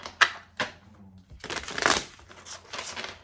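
Cards riffled and shuffled in quick bursts, a couple of short snaps followed by a longer crisp flutter, close and fairly quiet.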